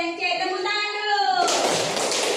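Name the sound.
clapping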